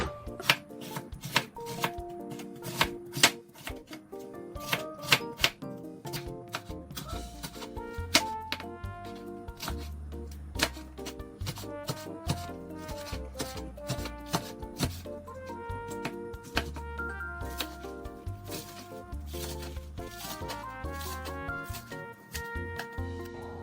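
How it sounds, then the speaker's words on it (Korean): A knife chops vegetables on a board for homemade spicy marinated crab. Steady, rapid, crisp chopping knocks repeat close by for the whole stretch, with a slightly heavier thud beneath the strokes later on. "야채를 먼저 손질해 놓겠습니다."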